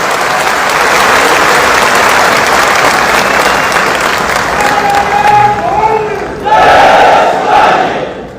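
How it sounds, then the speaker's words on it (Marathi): Crowd at a Shiv Sena workers' gathering in Nashik applauding loudly to welcome Eknath Shinde, a roaring sustained wave of clapping and cheering, with brief voices and tones emerging near the end. "प्रचंड टाळ्या वाजवून आपण त्याचं या ठिकाणी स्वागत करूया"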